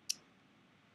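A computer mouse gives a single sharp, close right click near the start, followed by quiet room tone.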